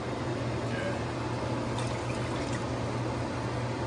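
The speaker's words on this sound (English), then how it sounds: "Pour some water on it." Water pours steadily into a pot of Jamaican stew goat, a continuous splashing rush lasting a few seconds at close range.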